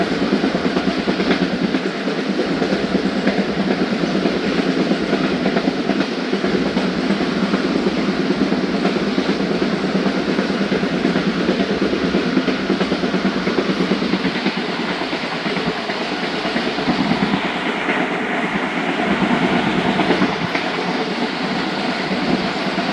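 Night run of the 116dn Musapak Express on rails, a steady loud rumble of wheels and carriages that holds unbroken throughout, with faint rhythmic clatter beneath and no voices.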